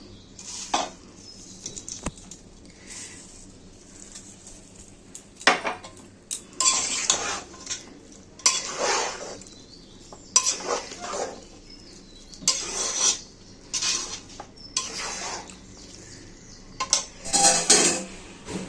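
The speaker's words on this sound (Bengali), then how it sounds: "ঢেলে দিয়ে নাড়াচাড়া করব, সঙ্গে বেরেস্তা দেব।" Mutton biryani with fried onions stirred in a pot, heard as intermittent bursts of metal spoon scraping and clanking against the vessel between quiet pauses, with a faint low sizzle underneath.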